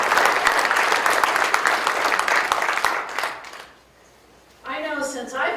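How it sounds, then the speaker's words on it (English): Audience applause at a university distinguished lecture series anniversary, a dense roar of clapping for about four seconds that fades out, followed by a person speaking. "Could you join me in a round of applause to celebrate?"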